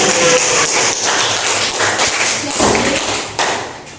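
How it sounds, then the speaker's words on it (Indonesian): A class claps for a fellow student, a close, fairly loud patter of hands in an uneven rhythm with a few thumps, and voices mixed in. "Tepuk tangan dulu."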